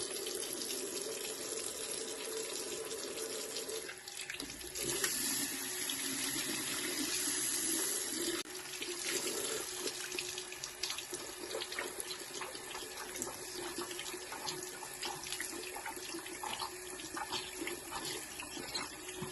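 Lukewarm tap water runs steadily over the filter of a Dyson V12 cordless vacuum being rinsed at a sink, a continuous close splashing stream with small shifts as the filter moves under the flow.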